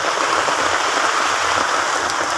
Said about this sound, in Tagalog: Bagsakan na ng ulan.